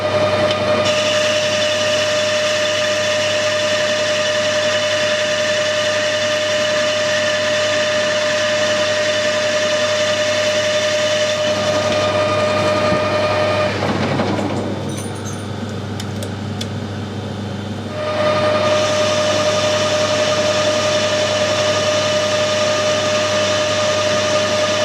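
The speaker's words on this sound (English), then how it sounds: "we'll face the end first, turn it down to size and part the piece off." A metal lathe faces and turns a welded drill spindle to size, giving a steady loud whine with sustained tonal hum throughout, briefly dipping and changing texture midway as the cut shifts before resuming; no talking.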